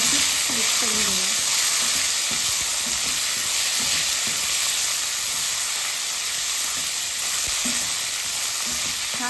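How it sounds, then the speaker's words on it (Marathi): Cauliflower florets fry in hot oil while being stirred, a steady loud sizzle and hiss throughout with faint scraping of the spoon, close and continuous. "छानपैकी आपण फ्लावर असा तेलावर परतून घेऊया."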